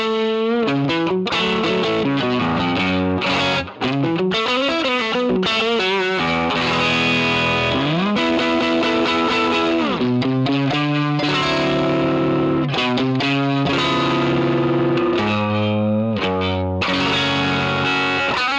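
A Stratocaster electric guitar runs through a Valve Screamer VS9 overdrive model for a bluesy tone, playing expressive bends and phrased licks loudly and continuously, alone with no speech.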